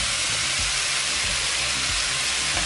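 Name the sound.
cooked rice being added to frying vegetables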